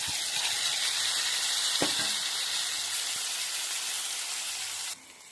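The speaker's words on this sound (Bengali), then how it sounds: "পেঁয়াজ ভাজি করতেছি, যদিও আমি এক হাতে নাড়তেছি আর এক হাতে ভিডিও করতেছি" Onions sizzle loudly and evenly in a hot pan while being stirred by hand, with a brief scrape near the middle before the sizzle drops in level at the end.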